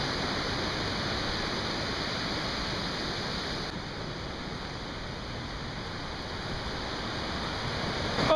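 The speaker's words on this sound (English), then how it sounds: "Wow, that waterfall is loud." Little Zig Zag Falls on Mt. Hood roars close by in a steady, dense broadband rush of falling water that masks everything else, with no voices.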